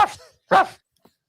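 A man imitates a dog with two gruff, voiced barks, close and loud, then a brief faint sound before silence.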